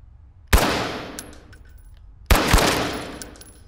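Rifle fire in the video game Firewall Zero Hour: two sharp, loud single shots about two seconds apart, each ringing out with a long decaying echo, no voices over them.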